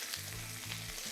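Garlic honey chicken stir fry sizzling in a wok, a steady hissing fry with a few low clunks of the pan, close and continuous, with no talk over it.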